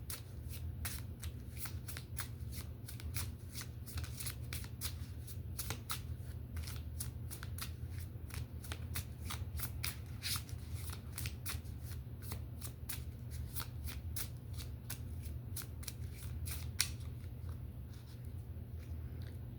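A deck of tarot cards is shuffled over and over, a soft, rapid riffling and flicking of cards that repeats steadily and close by, with a low hum underneath.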